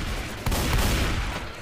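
A loud, dense burst of booming cannon fire in the video game Left 4 Dead 2, sustained and heavy, with no voices.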